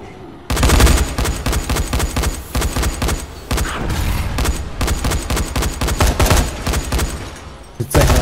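Sustained gunfire in a Dying Light zombie horde fight, dense overlapping automatic shots and bursts continuing for several seconds, loud and close, with brief lulls.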